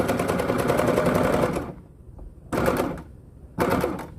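A Simplicity felting machine punching its needles into felt for a star ornament, a rapid mechanical chatter running in bursts with pauses between, loud and close with no talk.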